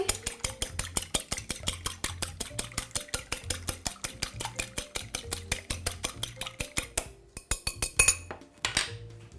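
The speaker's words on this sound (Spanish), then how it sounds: "Vamos a coger el huevo que nos queda. Lo batimos un poquito." An egg beaten briskly in a bowl with a fork or utensil for pastry egg wash, giving rapid, steady clinking taps against the bowl that repeat close-up for several seconds.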